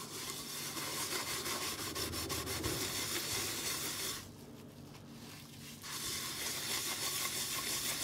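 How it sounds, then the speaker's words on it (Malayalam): A pan is scrubbed with dish wash poured straight onto it, producing a steady, close rubbing and rasping scour that pauses for about two seconds before resuming. "നന്നായിട്ട് തേക്കാം"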